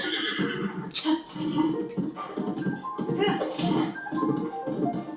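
A horse in Zelda: Tears of the Kingdom whinnies and snorts repeatedly, its neighs rising and falling over hoof clops and game ambience, close and fairly loud.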